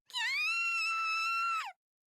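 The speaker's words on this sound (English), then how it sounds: "Scream? Was that Nozomi? A sudden cry rang through the night" A loud, sustained scream in a video game, a high cry that rises, holds steady for about a second and a half, then falls away, heard alone in the night.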